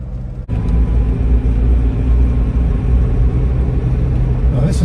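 Land Rover Defender 110 TDCi station wagon with about 181,000 miles driving as the throttle is lifted sharply, a steady low engine and road rumble that drops briefly then continues evenly, close and fairly loud.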